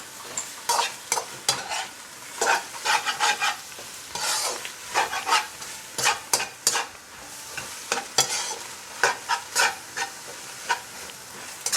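Giant prawns stir-fried in a hot pan with green onion and black pepper, giving a steady sizzle broken by repeated sharp scraping clatters from stirring, close and loud with no talking.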